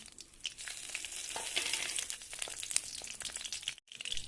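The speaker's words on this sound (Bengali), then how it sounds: "ওই তেলে আমি দিয়ে দিচ্ছি দারচিনি, লবঙ্গ, এলাচ আর একটা তেজপাতা" Cinnamon, cloves, cardamom and a bay leaf dropped into hot oil left from frying fish, crackling and spitting in a loud, dense burst that drops out briefly near the end before resuming.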